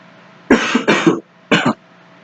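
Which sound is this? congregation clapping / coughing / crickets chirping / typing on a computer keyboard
coughing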